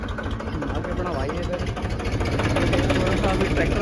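A tractor engine runs steadily on a farm in Gurgaon with a loud, continuous, low mechanical rumble and throb that holds throughout, and someone talks over it.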